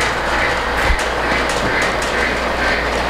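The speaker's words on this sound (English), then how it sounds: "Now we've got the ELF work train back on the upper level track, so let's get that rolling again" Polar Express toy ELF work train rolls along an upper level track at low throttle, a steady close whirring rumble with faint rhythmic clicks and no talk.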